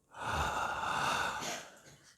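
During a yoga session, a single deep open-mouthed yawn draws in a long, breathy inhale that swells and then fades out softly, close and quiet, with no speech.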